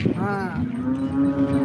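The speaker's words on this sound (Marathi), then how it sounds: "बाजारातली एक मोठी गाय आली बघा" A large cow at a Modnimb cattle market gives one loud, close moo that starts with a rising call and settles into a long, steady low drone, with faint market noise behind it.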